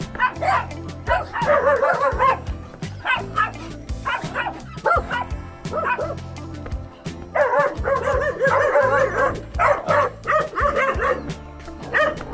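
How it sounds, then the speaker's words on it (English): Dogs bark and yip repeatedly in loud bursts at close range while walking past a hostel in a small Colombian town, with occasional whimpers between the barks. "The workers at the hostel said these dogs are sometimes aggressive"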